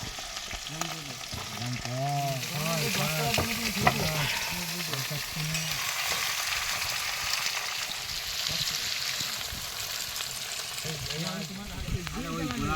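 Shrimp fry in a pan at an outdoor riverside cookout in the Sundarbans creeks, a steady close sizzle with stirring under intermittent voices talking nearby.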